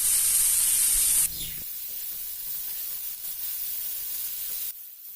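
Onion, potato and banana flower frying together in a pan over a high flame, giving a loud, steady hiss at first that drops to a softer, continuous sizzle.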